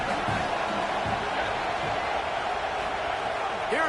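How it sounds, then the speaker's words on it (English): Home crowd at an Oregon football game roaring in a steady, dense wash of noise with scattered whoops and shouts, loud and continuous throughout. "how nice is it to have the home crowd going absolutely bananas?"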